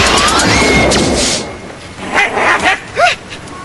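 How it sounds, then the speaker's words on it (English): A dog barks several times in quick succession, loud and close, with short sharp yelps after a burst of noisy clatter at the start. "he barks"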